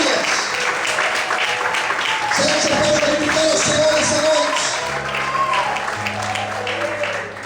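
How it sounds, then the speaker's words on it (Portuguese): A church congregation claps in praise during a sermon, loud and dense, with voices and keyboard chords rising beneath the applause as it continues. "Todos podem aplaudir e exaltar ao Senhor"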